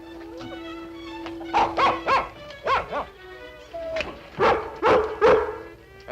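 A dog barks and yips from inside a crate in a series of short, sharp bursts with whimpering between them, fairly close, while a steady hum runs underneath.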